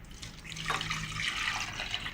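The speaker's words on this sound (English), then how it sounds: "Add sufficient water to submerge the pork." Water pours loudly into a pot holding pork belly, scallions, ginger and Szechuan peppercorns, a continuous splashing fill up close.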